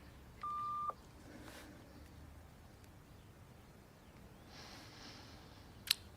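Telephone keypad tones follow a voicemail greeting: a steady beep near the start, then faint hiss and a brief sharp blip near the end, quiet and with no voices.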